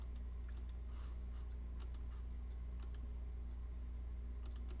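A computer mouse clicks in short, sharp bursts during NES programming work, a few quick double clicks spaced irregularly over a low steady hum, close and faint.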